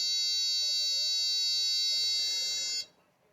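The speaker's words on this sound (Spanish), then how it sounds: "nos ponemos en tierra y ahí está pitando la tierra" Autel PS100 circuit tester giving a steady, loud continuous beep while its probe touches ground, holding for nearly three seconds before cutting off abruptly, leaving faint background noise.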